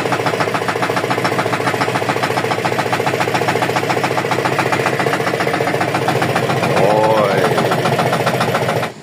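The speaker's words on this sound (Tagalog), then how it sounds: "Sana mga tropa, ito yung motor namin." A motorcycle engine idles steadily nearby, a loud, even mechanical chugging that runs throughout before cutting off at the end, with a brief voice briefly heard over it.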